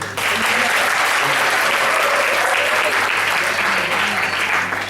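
A lecture hall audience at an industry interaction session breaks into loud, continuous applause that holds steady for the whole stretch, with a faint voice underneath.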